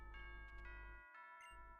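School bell in the Pokemon Ultra Moon video game: a short synthesized ding-dong chime plays over steady game music, clear and close.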